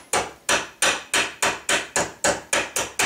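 Hammer tapping a gun tang clamped in a vise during gunsmithing of ramrod thimbles: nine sharp, evenly spaced metallic taps about three per second, close and fairly loud, with no talk.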